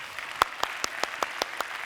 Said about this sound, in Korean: 저는 선포하고, 박수 좋습니다.